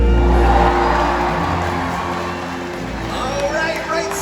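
A stadium audience at an orca show cheers loudly for a killer whale, a dense roar of crowd voices and whoops that starts strong and stays steady, with an announcer's voice over it.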